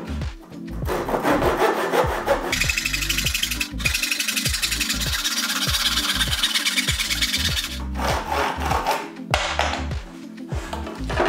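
Handsaw strokes cut a piece of wood to width, a steady, loud back-and-forth rasping rhythm close by with a few short pauses, no talking.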